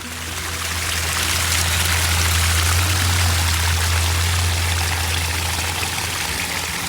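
Water runs and gushes into a freshly re-dug pond, a steady broadband rushing with a low rumble, close and constant throughout with no talking.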